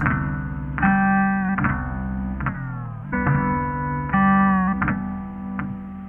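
A distorted, effected synth loop plays in choppy chunks, stuttering slices with pitch glides and abrupt cuts repeating rhythmically.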